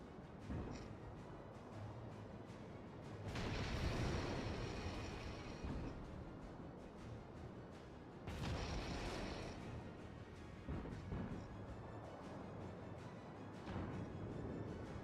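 Naval gunfire in World of Warships: heavy booming salvos roll out twice over a constant rumbling battle din, loud and broad, with no voices.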